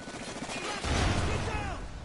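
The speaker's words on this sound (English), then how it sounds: "Flashbang." A flashbang grenade goes off in a first-person shooter video game: a sudden loud broadband blast about a second in that swells and rings on amid rattling gunfire.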